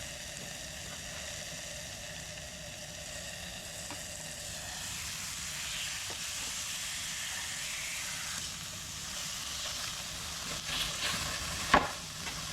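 Pork steak frying fast in a pan, giving a continuous bright sizzle with occasional crackles and a small clatter near the end.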